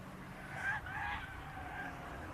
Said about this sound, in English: you can hear the tyres squealing as they come around